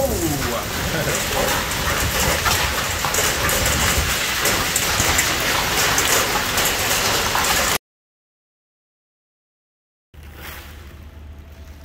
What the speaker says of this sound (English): Wow, look at that. It's hailing.